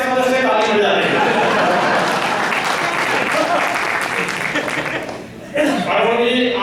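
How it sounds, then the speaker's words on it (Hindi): Loud, dense applause from the audience at a Hindi comedy poetry gathering fills the whole stretch. It thins briefly near the end before swelling again, and a speaking voice cuts in over it. "पूरा सदन मिलकर ताली कर रहा है"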